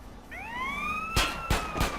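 A police car siren wails in GTA San Andreas, rising tonal sweeps from a single unit, loud and close, with three sharp bangs at the end.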